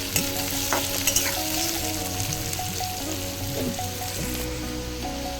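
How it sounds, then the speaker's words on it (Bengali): Steady sizzling of chopped onions frying in oil, with stirring scrapes and clinks throughout, no voices. "এবারে পেঁয়াজ কুচিটা ভালো করে লাল করে ভেজে নেবো আমি"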